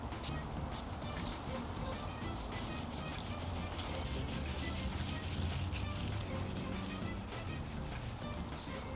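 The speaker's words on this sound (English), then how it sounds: "I'm trying just to stay consistent with my sanding" Rapid back-and-forth scratchy strokes of a hand sanding pad, steady and close, continuing rhythmically throughout at a moderate volume.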